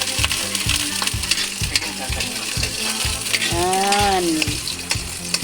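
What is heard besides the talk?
sautéing garlic in a pan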